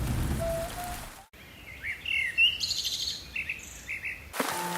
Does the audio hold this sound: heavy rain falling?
yes